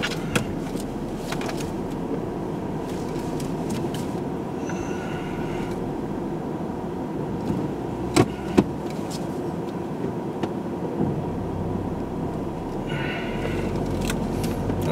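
A Peugeot car passing along a small rural road, heard as a steady mid-distance rumble of engine and tyres with a few faint clicks and knocks and no talking.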